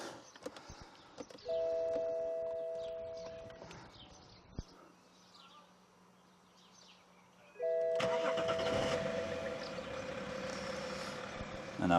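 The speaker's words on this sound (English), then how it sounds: "we will just go ahead and fire the engine up" A car engine is cranked and fires up twice, the starter whirring before the motor catches into a steady idle, close and fairly loud in a garage-like space, on a car bought while trading up toward a dream supercar.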